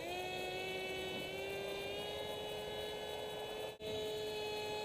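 An RCPowers F-117 v3 radio-controled model plane flies overhead on a slow maiden flight, its electric motor giving a steady, fairly loud whine with a brief dropout near the end; no one talks.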